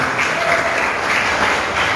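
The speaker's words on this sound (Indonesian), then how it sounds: "kita berikan tepuk" Steady, dense applause from an assembled audience at a school commissioning ceremony, a loud continuous rush of many hands clapping with no break and no voices over it.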